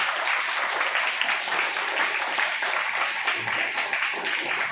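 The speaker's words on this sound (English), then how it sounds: "I request you all to please continue your claps." An audience applauds to welcome a leader at an Indian Book of Records event, a steady, dense wash of clapping that continues evenly throughout without a break.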